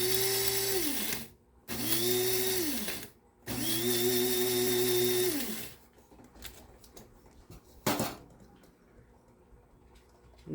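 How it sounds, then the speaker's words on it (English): A small electric grinder powders dehydrated onion pieces in three loud whirring bursts separated by short pauses, then goes quiet apart from faint clicks and rattles as the lid is handled. "You put it in the grinder, put the lid on"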